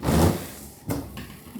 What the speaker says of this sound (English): If your windscreen wipers sound like this